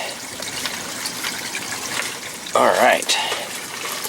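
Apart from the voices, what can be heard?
water splashing while transplanting plants over a fish tank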